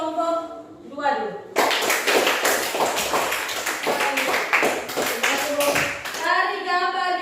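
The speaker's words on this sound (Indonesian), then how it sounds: "Sekarang tepuk tangan untuk kelompok 2 dulu." Classroom applause for a student group in a maths lesson, a burst of many hands clapping for several seconds, with children's voices and a teacher talking just before and after.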